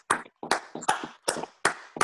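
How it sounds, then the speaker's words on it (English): A handful of sparse, separate claps on a call, about six distinct hand claps in an uneven rhythm, close and fairly quiet, each with a short decay. "So let's just give them a little bit of a clap."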